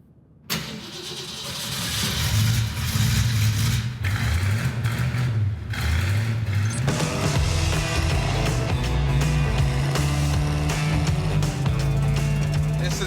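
A 1964 Ford Mustang engine catches and starts with a sudden burst, then revs in a few rising and falling swells before settling into a loud, steady rumble close by.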